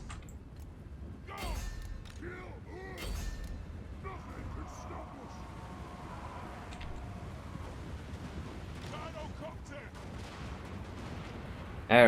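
Dwarf army gunfire in the Total War: Warhammer battle game sounds as scattered, sharp volleys and mechanical creaks over busy battle ambience.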